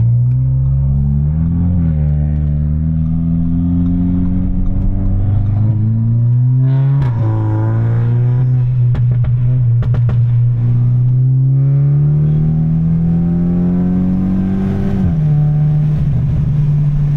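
A turbocharged car in sport mode accelerates hard with the window down, the engine note climbing through several gear shifts with sharp exhaust crackles at the shift points, loud and close throughout.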